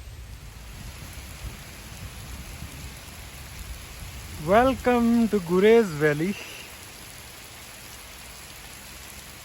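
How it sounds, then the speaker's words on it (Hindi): Steady rain with hail falling in Gurez Valley, Kashmir, a constant wash of drops throughout, with a short spoken phrase cutting in midway. "इसमें तो साथ में ओले भी गिरने लग गए हैं"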